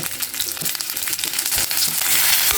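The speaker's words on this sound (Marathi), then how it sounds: "हे जे कापलेली पडवळ आहे ते ह्यामध्ये घालायची आहे आणि फक्त परतून घ्यायची आहे" Chopped snake gourd stir-fries in hot oil with a steady, dense sizzle and occasional scraping stirs, close and continuous with no talking.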